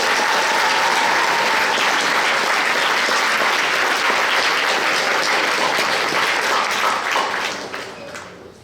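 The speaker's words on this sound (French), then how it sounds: "On peut l'applaudir pendant la photo." Audience at a regional science fair finale applauding a prize winner during her photo, a dense, loud, sustained round of clapping from a sizable crowd that tapers off near the end.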